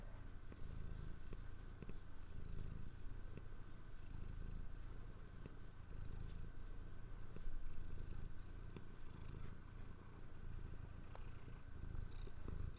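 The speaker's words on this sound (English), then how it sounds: "I hit the mic because it's right next to her in the hopes that you can hear her purr" A cat purrs right beside the microphone during a home livestream, a low rumbling purr with an even pulsing rhythm that continues steadily, close and fairly quiet, with no talking over it.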